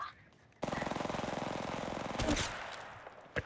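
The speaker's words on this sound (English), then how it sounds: "They're shooting at me." Rapid automatic gunfire from Apex Legends Mobile starts abruptly and fires in a fast, even stream for about two seconds, loud and near, followed by a sharp impact and quieter trailing sounds.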